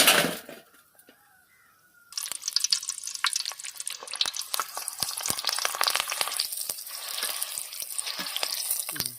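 Bonda, lentil fritters, deep-frying in hot oil, a near, steady sizzle and bubbling crackle that starts after a quiet opening couple of seconds and keeps going to the end.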